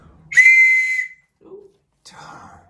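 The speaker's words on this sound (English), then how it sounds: "blow my own whistle" A whistle is blown loudly and nearby: one long shrill blast of almost a second, then a brief faint sound and a second, softer and more broken whistle tone.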